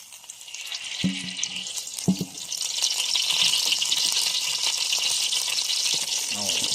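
Chili curry paste frying in hot pork lard for a beef-leg curry, a bright crackling sizzle that swells and stays loud, with a few short spoken words and utensil knocks early on.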